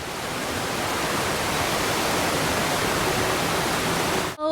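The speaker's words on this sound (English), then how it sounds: "The forests of Jackson County come to life with the sounds from the waterfalls coming from up ahead." A waterfall in the forests of Jackson County in the video game The Last of Us, a steady loud rushing roar of falling water that continues without a break and cuts off abruptly at the end.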